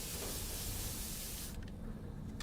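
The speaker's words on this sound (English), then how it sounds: "It's like container spray." A spray from a container in the video game Death Stranding 2, a steady broad hiss lasting about a second and a half before stopping, followed by faint clicks.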